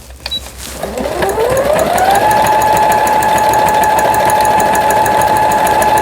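A repaired Brother XL 9500 sewing machine starts up close and loud, its motor rising in pitch for about two seconds before settling into a steady, even whine and rattle of slow stitching.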